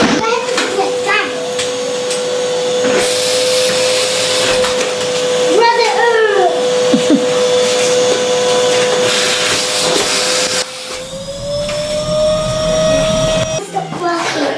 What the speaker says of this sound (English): I'm not gonna allow you to use my Henry Quick.